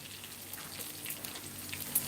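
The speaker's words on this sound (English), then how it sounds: "So what we did, we're frying it now on a very high heat." Crispy pork belly frying in oil on very high heat, a faint continuous sizzle with scattered crackles and pops.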